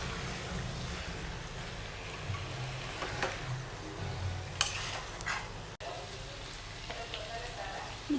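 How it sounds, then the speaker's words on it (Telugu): Brinjals being stirred into masala in a pan for gutti vankaya curry, a steady soft scraping and sizzling texture with a few sharper clinks of the spoon against the pan. "వంకాయలన్నీ యాడ్ చేసిన తర్వాత ఇలా అన్నీ ఒకసారి మసాలా అంతా కలిసేటట్టు మిక్స్ చేసుకోవాలండి"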